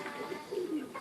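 Serbian highflyer pigeons give a low, soft cooing, a brief rolling call repeated in a quiet setting with no talking.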